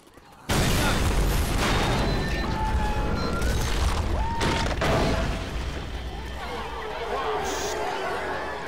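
A loud, sudden explosion goes off in Left 4 Dead 2 gameplay, a sharp broadband blast followed by sustained rumbling debris and crackle lasting several seconds, with players chatting over it.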